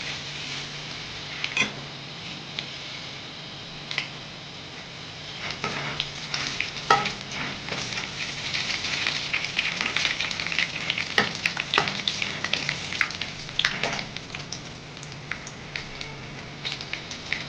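Gongura leaves fry in oil over a low flame for a gongura garlic chutney, a soft steady sizzle broken by light stirring scrapes and ticks that grow busier midway.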